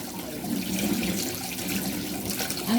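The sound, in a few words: washing food under running tap water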